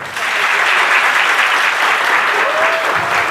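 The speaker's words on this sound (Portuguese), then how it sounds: "Vamos aplaudir o Senhor?" A church congregation claps loudly and steadily, an even wall of applause that holds for a few seconds with a faint voice underneath.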